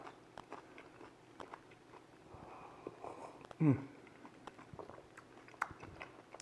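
A single crisp bite into crusty Italian bread dipped in tomato sauce from an eggplant parmigiana, close and brief, followed by soft chewing against a quiet room background.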